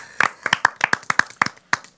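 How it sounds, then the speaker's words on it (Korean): A few people clap quickly and unevenly during a live K-pop group broadcast: about a dozen close, sharp claps in two seconds, with faint voices underneath. "먼저 이거 박수치고 넘어갑시다."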